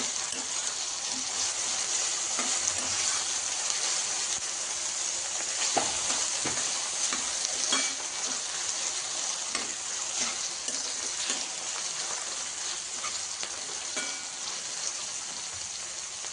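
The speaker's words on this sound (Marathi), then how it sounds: "फ्राय करत राहायचं आहे" Chopped tomatoes frying in a pan of upma, giving a loud, steady sizzle throughout, with occasional scraping from stirring.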